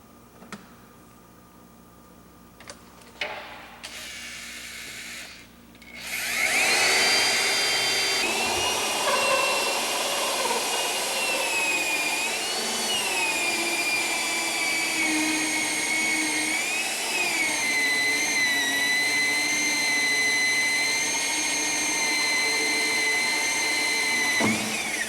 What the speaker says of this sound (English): we need to drill out for a fitting for our feed for our live well